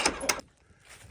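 A farm enclosure door slides shut with two quick scraping rattles, close, then a quiet pause with faint background noise.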